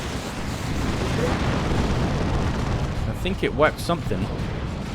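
Rocket run strike in Dawn of War 2 battle: a sustained rumbling barrage of explosions and gunfire roars steadily for several seconds, with a voice talking over the din toward the end.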